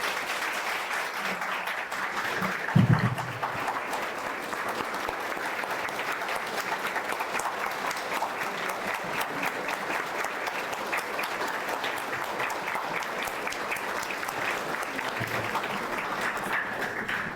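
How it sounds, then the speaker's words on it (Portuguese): Audience applause at a spiritist lecture, steady dense clapping sustained for the whole stretch at moderate volume, with a brief low thump near the start. "Uma salva de palmas para todos esses homens e mulheres."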